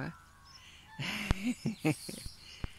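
A goose on a roadside journey near Calitzdorp gives short breathy hisses and a few honking calls in uneven bursts, close and moderately loud, with brief clicks and thumps between them.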